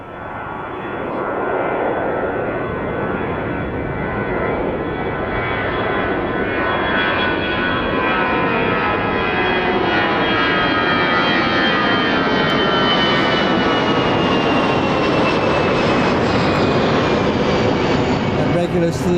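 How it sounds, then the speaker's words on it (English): ATR turboprop airliner at Birmingham Airport, engines droning steadily and loud throughout, a broad roar with a slowly rising whine, somewhat distant rather than close by. "Looks like we've got an ATR in the background."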